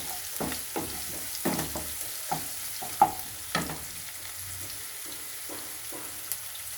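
Two dried red chillies frying in hot oil in a home kitchen, a soft steady sizzle broken by a series of sharp scraping stirs and clinks of a spoon against the pan.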